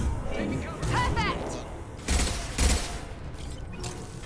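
Sniper rifle fire rings out in a firefight in Mass Effect Legendary Edition, two sharp, heavy shots about half a second apart, with mechanical weapon noise and a voice over the start.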